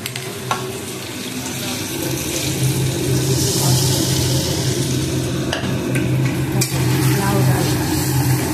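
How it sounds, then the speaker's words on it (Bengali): Cumin seeds and bay leaf tempering in hot oil in a pan, a steady close sizzle and crackle that holds throughout, with a few soft clinks of utensils. "ওই দেখো ফোড়ন দিয়েছি, একটু ভালো করে হোক জিরে তেজপাতাটা"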